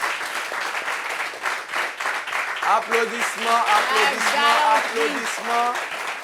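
Loud studio audience applause on a French TV show set fills the room, dense clapping sustained throughout, with a host's voice speaking French over it partway through.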